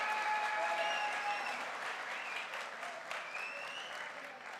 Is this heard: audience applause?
yes